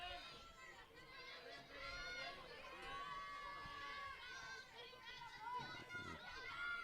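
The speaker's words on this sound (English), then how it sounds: "Good crowd on hand. You can hear them in the background." Crowd of spectators at a high school state softball game, a steady murmur of many voices with children's shouts and chatter, moderately distant and continuous throughout.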